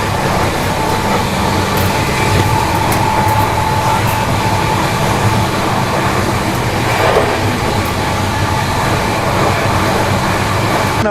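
The Yoga Nagari Rishikesh–Udaipur train sits at Udaipur City railway station, its loud, steady rumble filling the platform with rattling wagons, rhythmic wheel clatter and a brief high squeal of wheels.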